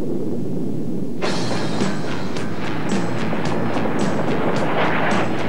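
A cartoon avalanche erupts suddenly after a quiet moment, a loud broad rumbling roar with rhythmic clattering bursts rolling on steadily.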